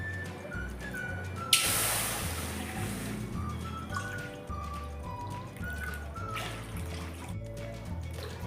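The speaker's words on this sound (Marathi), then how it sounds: "आणि याच वाटीने आता मी पाणी घालणार आहे" Water poured from a bowl into a thick, heavy kadhai on the stove, a sudden splashing rush followed by steady trickling and dripping with a low rhythmic background hum.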